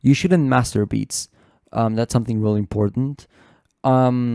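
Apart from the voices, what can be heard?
None of the usual background noises is heard.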